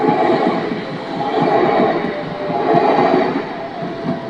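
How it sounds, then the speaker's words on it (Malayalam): A train rolls past a level crossing in Italy, a loud, steady rumble with rail clatter that swells and eases as the carriages pass close by, with no voices. "അപ്പോൾ അങ്ങനെ ട്രെയിൻ പോയി കഴിഞ്ഞു ഇനി ഗേറ്റുകൾ തുറക്കും"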